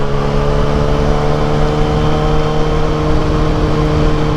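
Steady drone of a Honda CBR 300R motorcycle engine while riding, loud and constant with a humming tone and wind rush, no voices.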